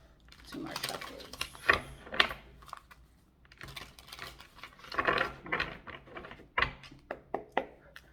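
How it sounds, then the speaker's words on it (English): Tarot cards being shuffled in short bursts of soft riffling and tapping, with pauses between, close by and fairly quiet. "Two more shuffles."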